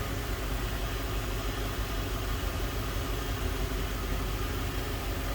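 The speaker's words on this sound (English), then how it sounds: "dual overhead cam V8" A 2004 Ford Thunderbird roadster's 3.9 liter dual overhead cam V8 idles steadily under the hood, a smooth, even hum with a broad noisy wash and no voices.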